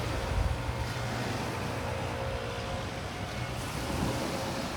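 Surf washing onto a beach, a steady broadband rush of waves with wind noise buffeting the microphone throughout, no voices.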